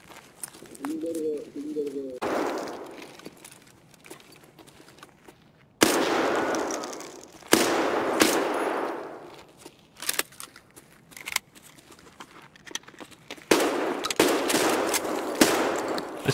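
Shotgun blasts and firefight noise in a multiplayer survival shooter, with several sharp broadband bursts and a loud cluster of shots in the second half, mixed with voices talking over game audio.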